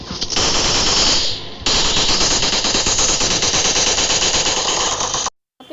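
Automatic gunfire in the PUBG battle-royale game rattles in long, loud, rapid bursts with a brief pause early on, cutting off abruptly near the end.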